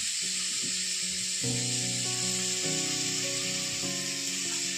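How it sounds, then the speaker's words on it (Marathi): Chopped onions sizzle steadily in oil for chicken biryani cooked over a wood-fired clay stove, a constant hiss running under a clear tonal hum that shifts in pitch several times. "कांदा भाजून दे."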